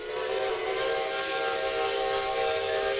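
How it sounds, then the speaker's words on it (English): A steam locomotive's grade crossing whistle sounds in Centuries of Steam, one steady, loud, sustained tonal blast with hissing steam, no voices. "the grade crossing whistle just happens without me having to do anything"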